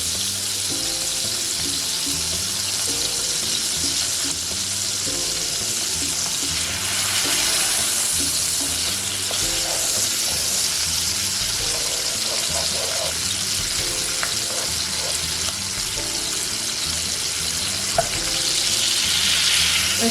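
A block of butter melting and sizzling in a hot pan, a steady loud crackling fizz that runs unbroken throughout, close up and without talking.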